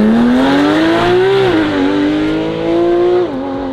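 A Porsche GT3 RS circling the Circuit du Luc at a moderate pace to warm its tires gives a loud, close engine drone that swells, drops briefly at a shift, then rises and falls again.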